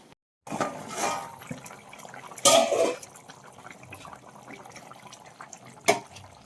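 Fish head curry boils steadily in a pot, giving close, continuous bubbling and liquid gurgling with two brief louder splashy bursts partway through and near the end, with no talking.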